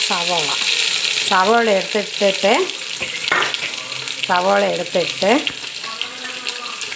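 Chopped onion frying in a pan with curry leaves, a steady broadband sizzle running throughout, close up, with stirring noises and a few short bursts of voice over it.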